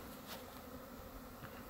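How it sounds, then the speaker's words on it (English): Bees buzz around beehives at a farm apiary during a hot spring day of making splits, a soft continuous drone close by with faint passing insects and no voices. "bee season has definitely started."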